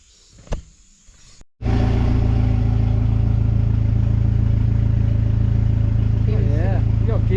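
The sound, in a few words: turbo BMW M44 E36 car engine driving through gears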